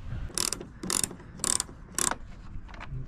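Screws being backed out of a 2022+ Subaru BRZ/GR86 tail light assembly, heard as four evenly spaced bursts of ratcheting clicks close by, with quieter mechanical fiddling between them and no talking.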